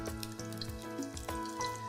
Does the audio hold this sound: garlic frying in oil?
yes